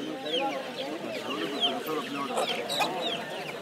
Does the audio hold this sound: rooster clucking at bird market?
yes